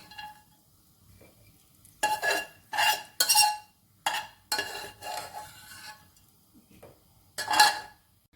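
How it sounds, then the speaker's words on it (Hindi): Semolina (suji) roasting in a pan for halwa is stirred in several scraping bursts, each lasting about a second, with quiet pauses between them and no voices. "तो देखिए सूजी हम भून रहे हैं"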